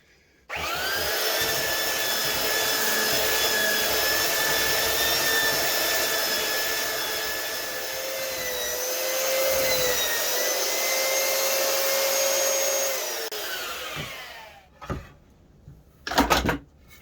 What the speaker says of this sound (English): I'm going to do a bit of belt sanding.